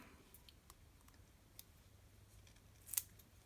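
Scissors trim a small sliver of paper from a stamped image for a handmade card. Quiet, close snips sound now and then over faint room noise, with one crisper cut near the end and no talking.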